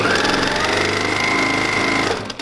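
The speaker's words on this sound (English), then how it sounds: "So I'm going to put the two edges together and just sew across this edge." A sewing machine runs steadily as it stitches across two fabric edges held together, giving a continuous, close, loud mechanical hum that stops near the end.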